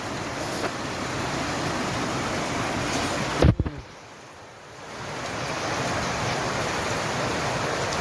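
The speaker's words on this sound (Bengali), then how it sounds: "বৃষ্টির সাউন্ডটা ঠাস ঠাস করে ট্রেনে পড়ে যায়" Rain drums on the roof of a railway carriage used as a living space, a steady dense wash of patter that briefly cuts out with a short knock midway before resuming at the same level.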